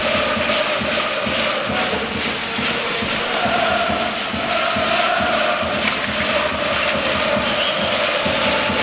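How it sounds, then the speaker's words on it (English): Large crowd inside a hockey arena at the Spengler Cup in Davos, a steady loud roar of voices with scattered cheers and thuds sustained throughout, no clear speech over it. "Just listen to this crowd."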